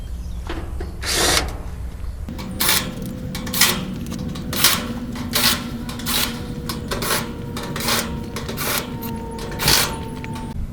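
A power drill removes screws from around the top of an HVAC condenser fan unit, whirring in repeated short bursts with brief pauses between them over a low steady background hum.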